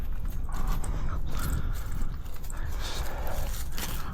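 Hose clamps being tightened on a Toyota Corolla radiator, close, continuous small metallic clicks and ratcheting scrapes over a rough background rumble, without talking.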